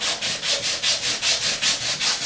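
Rhythmic back-and-forth scrubbing of copper pipe being cleaned before soldering for a pedestal sink install, about ten even abrasive strokes, close and loud with no talking.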